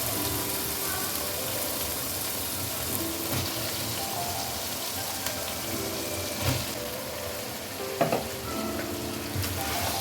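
Potatoes and brinjal fry in a pan, giving a steady, close sizzle throughout with occasional soft stirring scrapes and clinks.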